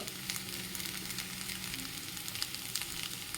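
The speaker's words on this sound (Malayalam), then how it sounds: "ഉള്ളി തക്കാളിയൊക്കെ ഞാൻ കുറച്ച് ഉപ്പിട്ടിട്ട് നല്ലോണം ഒന്ന് വഴറ്റിയെടുക്കുകയാണ്" Onion and tomato with salt and turmeric sautéing in a pan, a steady close sizzle with soft crackles and occasional spatula scrapes, no voices.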